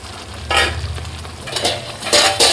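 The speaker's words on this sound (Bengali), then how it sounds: "মশলাগুলো দিয়ে কিন্তু বেশ খানিকক্ষণ কষিয়ে নিতে হবে, কারণ মটন অনেকক্ষণ কষাতে হয়" Mutton with marinated spices being stir-fried in a pan, a steady sizzle under repeated scraping strokes of a spatula.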